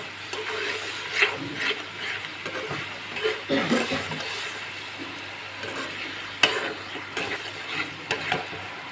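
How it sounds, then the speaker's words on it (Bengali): A chili and turmeric masala with a little water is sautéed and stirred in a pan for a vegetarian taro dish, with a soft, continuous sizzle and repeated close scraping strokes. "এবার ভালো করে আমি মশলাটাকে ভালো করে কষিয়ে নেব।"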